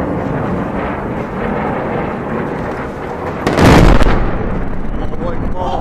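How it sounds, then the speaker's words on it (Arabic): Bombardment explosion on the village of Marj Khokha near Latakia in Syria, a single heavy broadband blast near the middle rising over steady background noise and voices, then settling back. "قصف على قرية مرشوخة اللاذقية"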